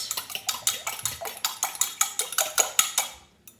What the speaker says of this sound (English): our egg and our milk, which I'm just going to give a quick whisk here